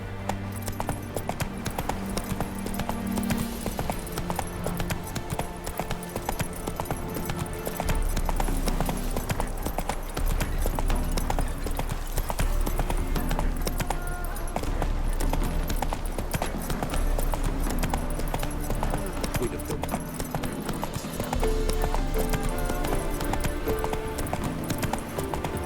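Roach the horse gallops in The Witcher 3: Hearts of Stone, with a rapid, continuous clip-clop of hooves under game music and ambience, and a voice briefly speaking.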